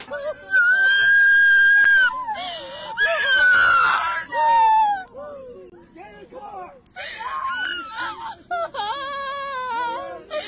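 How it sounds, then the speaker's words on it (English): Girls scream and wail in distress as their mother is arrested and dragged into a car by Border Patrol near San Diego, California; loud, continuous high-pitched cries overlap one another with sobbing breaks. "her 3 daughters watched and screamed"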